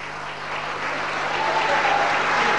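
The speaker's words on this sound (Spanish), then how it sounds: "Fuerte el aplauso" Guests at a wedding ceremony break into applause that swells steadily louder over a couple of seconds, a thick wash of many hands clapping over a faint electrical hum.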